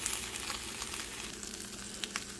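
A roast chicken sandwich heating in a pan gives off a quiet, steady sizzle with soft crackles and small pops throughout.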